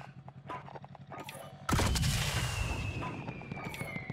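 Gunfire in Warzone battle royale combat: quieter scattered shots and clatter, then a sudden loud burst of rapid firing that rings out and decays under ongoing action noise.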